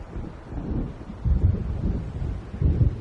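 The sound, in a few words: thunder of an approaching storm in video game Alan Wake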